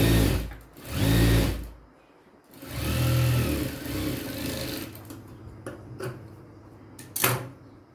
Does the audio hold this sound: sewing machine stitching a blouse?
yes